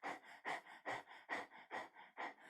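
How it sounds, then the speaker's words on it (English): Rhythmic panting through the mouth with the tongue out, like a dog, during a yoga breathing exercise: about nine quick, even breath pulses, close and clear, with no talk. "try sticking your tongue out and panting like a dog."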